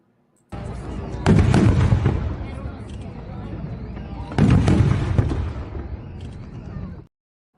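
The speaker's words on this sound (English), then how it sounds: "Well, we have fireworks for you." Fireworks sound effect: two loud clusters of bursting booms and crackling, each starting with a sharp blast and trailing into a rolling crackle, close and dense, then cutting off abruptly.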